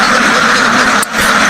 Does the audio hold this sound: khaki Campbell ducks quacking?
yes